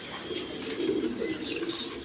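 A pair of high-quality kosha-gola pigeons, offered with eggs, coo softly and continuously in a short, close, even burst without any voices.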